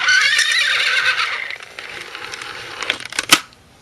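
A 1980s See 'n Say pull-string toy plays a horse neigh through its small speaker, a bright, tinny whinny lasting a few seconds, followed by light clicks and a sharp mechanical snap near the end.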